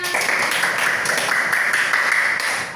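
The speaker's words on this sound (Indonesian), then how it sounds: "terima kasih tepuk tangan" Schoolchildren in a junior high classroom clap together in a dense, steady burst of applause that fills the room for a few seconds, with no talk over it.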